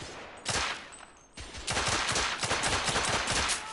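Gunfire in the video game The Order 1886: sharp bursts of shots, a single crack and then a rapid, sustained volley of automatic fire, loud and close with no talk over it.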